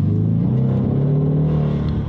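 An EcoBoost Mustang engine with exhaust valves open, accelerating after a GDI valve and turbo cleaner treatment, giving a loud, rough, uneven exhaust rumble that stutters and breaks up.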